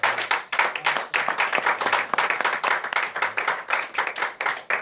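Worshippers at an MFCI Church prayer vigil clap their hands in a brisk, steady rhythm. The clapping is loud and close and continues for about five seconds with almost no talking.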